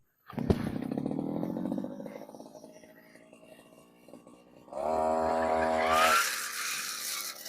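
A grass trimmer starts near a durian tree and whines as it cuts grass, settling into a steady buzz before rising to a harsher, higher pitch as the line bites, loud and close.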